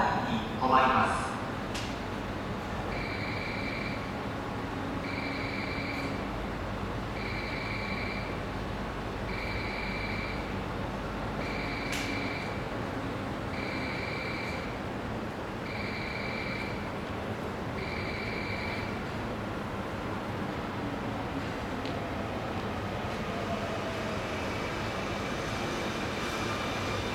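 A Keio 9000-series electric commuter train rolls into a station with a steady low rumble and hiss, while a repeating two-tone chime pulses throughout and a voice announces in Japanese over it.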